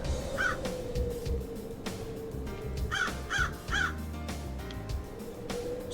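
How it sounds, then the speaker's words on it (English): Crows caw in the video game Paradise Killer, several harsh calls in a quick cluster near the middle of the clip, with a few more earlier, over a steady ambient game background hum. "I hear crows."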